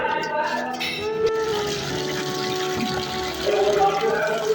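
Water splashes and runs into a pan for cleaning, a steady close pour with a brief clatter and a person talking over it.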